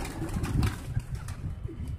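Domestic pigeons kept by a breeder coo softly in low, throaty murmurs that overlap close by, with a faint flutter and a light rumble of background noise.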